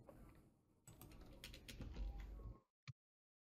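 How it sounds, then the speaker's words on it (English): Quiet computer keyboard typing, a run of soft rapid keystrokes for about two and a half seconds, ending with one isolated click after a brief pause. "So I can type in at team, choose the team that I want to inform"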